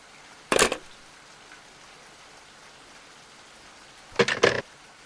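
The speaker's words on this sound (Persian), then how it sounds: "امشب بارون خیلی داره شدید میباره" Heavy rain falls in the video game Resident Evil Requiem as a faint, steady hiss, broken by two brief, louder splashing bursts, one early and one near the end.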